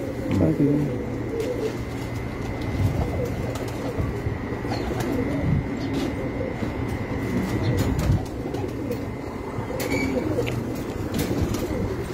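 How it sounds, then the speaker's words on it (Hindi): Pigeons coo repeatedly on a home rooftop loft of prized racing pigeons, their soft, rolling calls layered over a steady low rumbling hum that continues throughout. "ये भी जी बड़े मशहूर कबूतर है जी मेरे छत वाले"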